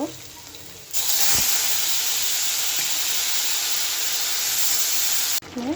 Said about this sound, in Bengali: এখন আমি সবজিটা দিয়ে দেব।